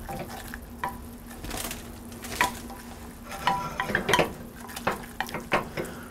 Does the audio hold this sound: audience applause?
no